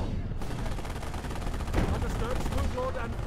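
Dense, continuous German gunfire in the World War II strategy game Company of Heroes during the Liberation of Caen mission, with rapid overlapping rifle and machine gun bursts and a heavier blast near the middle.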